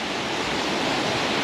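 Keralamkundu waterfall roars as a steady, dense rush of flowing water, loud and close, with no voices.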